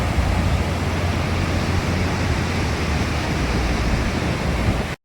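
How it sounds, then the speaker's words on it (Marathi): Big sea waves break on the shore in a constant loud roar of surf, a steady broad wash of noise with no voices. "हे बघा पाण्याच्या किती मोठ्या मोठ्या लाटा येत आहेत."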